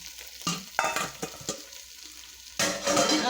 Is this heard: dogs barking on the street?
no